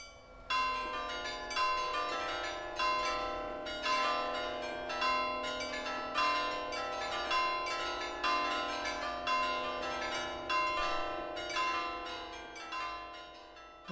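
A church carillon rings out a melody of many bells, struck notes overlapping in a rolling pattern that swells and repeats, full and resonant with a long ringing decay.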